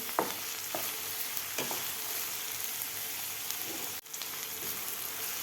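Capsicum and tomato are sautéed in a pan for paneer bhurji, giving a steady soft sizzle with scattered scraping stirs of a spatula, close and fairly quiet, with no talk.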